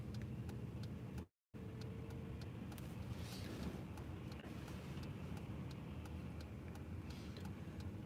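A car turns left from Grant Avenue onto Pembina Highway in Winnipeg, Manitoba, heard from inside as a low, steady road rumble with a faint repeating tick of the turn signal throughout and no talking.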